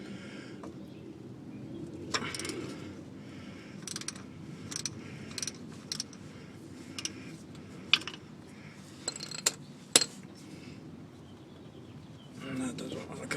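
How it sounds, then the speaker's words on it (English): Size B oil filter wrench cap and ratchet working an oil filter loose on a Ford Ranger, giving scattered metallic clicks and ratcheting taps over a low background hum, close and fairly quiet. "I have a size B oil filter wrench cap, and so I'm gonna start taking this thing off."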